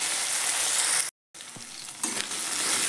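Tomato sizzles loudly in a hot pan while being fried for ghugni, a close, bright crackling hiss broken by a brief silent gap, with a few soft stirring knocks.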